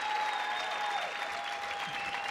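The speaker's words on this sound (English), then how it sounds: "Irina and Lucy had to applaud that too" Steady applause from a tournament crowd after a long rally at the 2017 U.S. Open Pickleball women's pro doubles match, dense and continuous clapping filling the space at an even level throughout, with no voices standing out.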